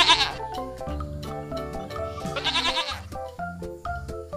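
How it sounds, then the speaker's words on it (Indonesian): A male goat, shown emerging from a large green egg in a cartoon, bleats in several loud, wavering calls, close and clear over a light musical background. "ternyata di dalam telur ada hewan yang namanya kambing jantan"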